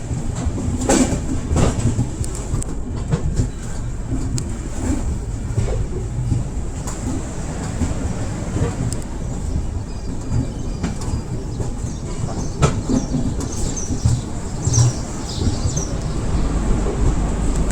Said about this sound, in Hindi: और मैंने अभी बोर्ड किया है 13247 कामाख्या जंक्शन, आरा जंक्शन, कैपिटल एक्सप्रेस।